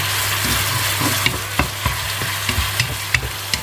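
Stir-frying in a hot pan with oyster sauce and soy sauce added: a steady close sizzle with repeated clinks and scrapes of a utensil against the pan, no talking.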